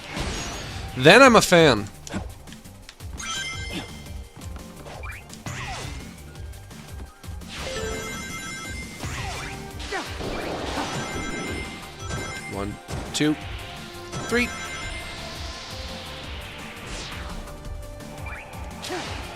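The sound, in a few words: Shadow the Hedgehog smashing stained glass windows, Shadow Generations video game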